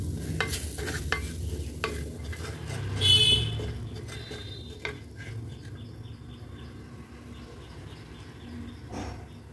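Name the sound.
stirring onion masala with roasted spice powder in pan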